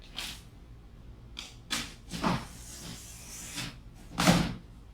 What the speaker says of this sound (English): I'm going to take my box cutters, I'm going to carefully cut to the front of the box on each side.